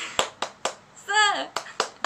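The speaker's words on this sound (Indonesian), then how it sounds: "Nah, itu tadi tepuk semangatnya." A class of children performs the rhythmic tepuk semangat clap, with crisp, evenly spaced hand claps broken by a short sung chant in the middle.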